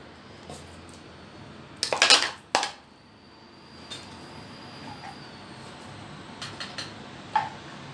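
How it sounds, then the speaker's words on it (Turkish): Çiğ köfte mixture is tipped and spread onto a tray, with a short cluster of clattering, scraping knocks from the tray and utensil, then scattered softer taps over a quiet background. "Tepsimize döküyoruz."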